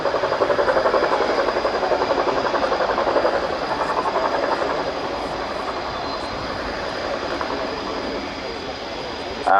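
An RAF Chinook, a 15-ton twin-rotor helicopter, is backing out of a hover into an over-the-shoulder departure at the Royal International Air Tattoo, a loud dense roaring whine that fades gradually as it pulls away, with no talk.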